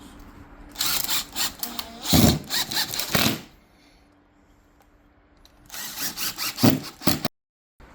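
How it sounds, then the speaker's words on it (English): A power driver sets decorative brass screws into an armor plate, whirring in two close clusters of short pulsing bursts separated by a quiet pause. "So we're just going to put some nice decorative brass screws."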